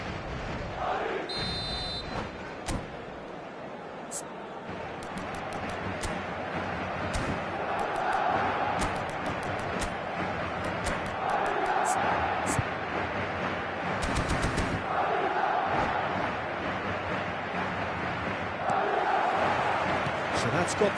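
Stadium crowd at a football video game match, Chelsea-era commentary with Belletti, a steady roaring murmur of fans throughout with occasional sharp whistles and bursts, a commentator talking over it.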